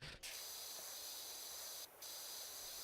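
Pressure washer spraying in Power Wash Simulator, a steady, bright, close hissing jet that stops for a moment twice and resumes at once.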